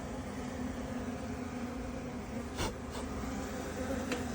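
Honeybees drone in a dense, steady swarm buzz around an open beehive while it is moved to a new box. The close, continuous hum carries a couple of brief clicks or knocks partway through.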